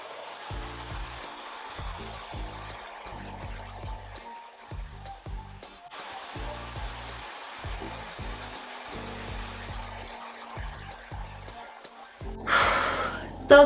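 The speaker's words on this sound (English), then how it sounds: "The last part of this step is diffusing." A hair dryer fitted with a diffuser dries curly hair, giving a steady close blowing whoosh with a brief dip near the middle. A rhythmic low thumping pulse runs underneath throughout.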